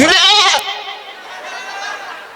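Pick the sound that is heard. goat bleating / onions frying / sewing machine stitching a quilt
goat bleating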